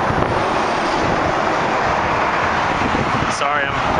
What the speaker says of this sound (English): And it is windy today, so bear with me.